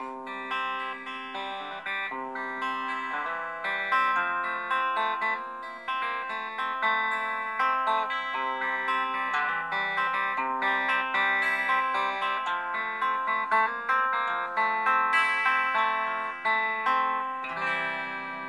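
Clean electric guitar tones played through a Raven Roadie 50 vintage combo amp, with steady strummed chords and picked notes ringing continuously at moderate volume, with no talking over the playing.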